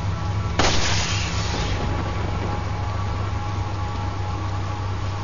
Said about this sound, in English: Shoot it dead again.